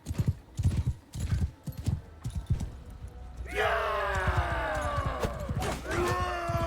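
A horse galloping in the video game Mount & Blade II: Bannerlord beats out quick, rhythmic hoofbeats, then lets out a loud, drawn-out whinny over continuing hoof thuds.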